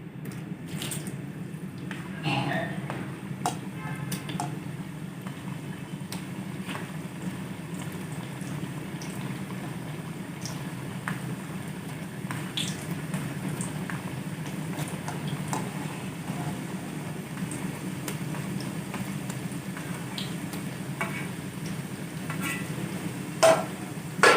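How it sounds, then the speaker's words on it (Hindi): Namak pare dough pieces deep-frying in hot oil over a low flame, a steady bubbling sizzle throughout with occasional crackles and a few faint clinks near the end. "बाकी के नमक पारे भी फ्राई कर लेंगे"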